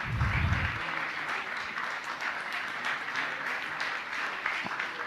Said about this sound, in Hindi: आप उनके लिए भी तालियां बजाइए